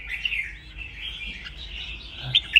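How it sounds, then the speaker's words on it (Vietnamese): A red-whiskered bulbul calls with a steady stream of high, bright chirps and warbles, moderately close, with a few sharper notes near the end and no talking. "Con bổi đấy anh em ạ, con bổi thì dây màu đỏ hẳn đít nó đỏ hơn"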